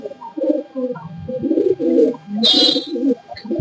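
Lambadi Andhra pigeons, among them a big-eyed male with black bead-like eyes, coo in low, throaty, rolling phrases close at hand, with a brief hissing burst partway through.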